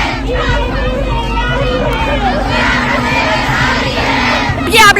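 Protest crowd shouting together in the street in Uttarakhand, a dense roar of many voices, chants and cries sustained throughout at close range, with a sharper burst near the end.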